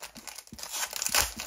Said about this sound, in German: Aber jetzt öffnen wir die dritte Tüte.